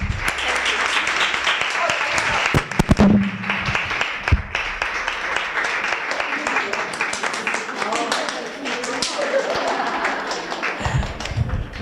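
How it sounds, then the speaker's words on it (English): Participants at a women-in-entrepreneurship panel clap for one another, sustained room applause with scattered taps and thumps, while voices talk over and through the clapping. "I think we're going to just clap for one another just to appreciate your time"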